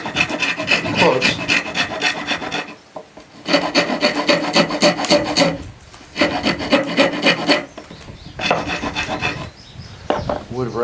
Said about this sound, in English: Wood rasp can take care of a lot of ills quick.